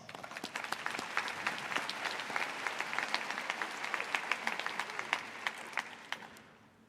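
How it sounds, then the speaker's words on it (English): The Lincoln Southwest High School class of 2024 and guests applaud at graduation, with many sharp individual claps standing out in a sustained round that builds, holds, then fades away at the end. "Give yourselves a round of applause."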